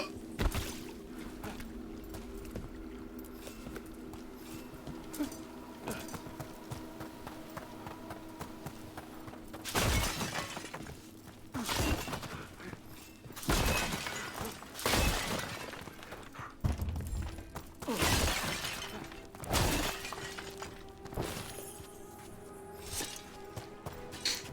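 Belongings being smashed in the fantasy game Dragon Age, a series of heavy crashing and shattering impacts every few seconds over a low humming ambience, no voices.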